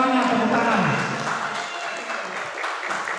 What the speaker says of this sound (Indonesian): Tepuk tangan dulu semuanya, tepuk tangan.